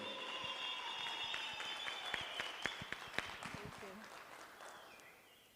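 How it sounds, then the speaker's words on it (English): Applause from an audience at a government Freedom Month dialogue event, a steady patter of clapping with some sharper claps, moderately near, tapering off toward the end, with voices faintly in the background. "A round of applause."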